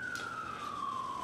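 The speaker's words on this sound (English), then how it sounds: "I keep hearing sirens, and no doubt you do too." An emergency siren wails outside at a distance, a single slowly falling tone, faint and brief.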